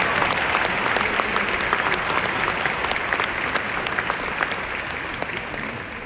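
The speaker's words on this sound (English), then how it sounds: "Another big round of applause" A large crowd at a university graduation ceremony claps in sustained, even applause, a dense patter of many hands that stays loud throughout and fades only slightly toward the end.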